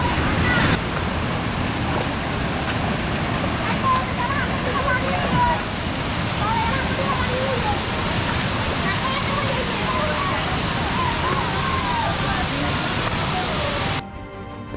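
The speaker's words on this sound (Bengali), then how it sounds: "ঝরঝরি ঝর্ণায় প্রচুর পরিমাণে পানি" A roaring waterfall on the Jhorjhori trail in Sitakunda, swollen after heavy rain, sends a dense, steady rush of crashing water that holds unbroken and close for the whole stretch before dropping off at the very end.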